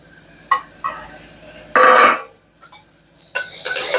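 Chopped tomatoes with onion and a green chilli being sautéed in a pan for mutton thokku gravy, with soft sizzling, a few spoon scrapes and clinks, and one louder stirring burst close by.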